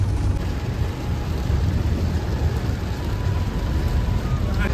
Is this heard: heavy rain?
yes